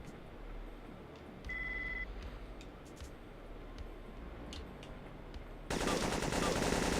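Rapid bursts of gunfire in a shooter video game, crackling in quick volleys over a steady background, with a sudden loud burst of noise near the end.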